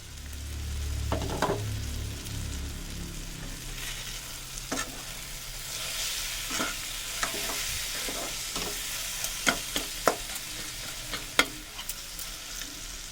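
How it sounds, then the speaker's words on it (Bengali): A spice paste with amchur powder for crab pickle is stir-fried over medium heat, giving a continuous soft sizzle broken by repeated spatula scrapes and taps against the pan that come more often toward the end. "এই মশলাটাকে একটু নাড়াচাড়া করে নিয়ে মিডিয়াম আঁচে রেখে একটু চাপা দিয়ে মশলাটা কষে নেব"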